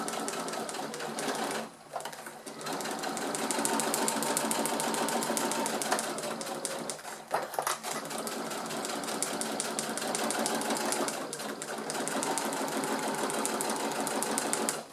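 Sewing machine stitching waterproof fabric for a zippered beach pouch, using a Teflon presser foot: a steady, close, continuous rapid stitching whir with two brief pauses where the needle stops to pivot at corners.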